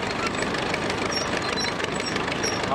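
A Caterpillar D2 crawler tractor rolls past in a antique machinery parade, its engine a steady, rough, rumbling chug with clanking texture, close and constant for the whole stretch.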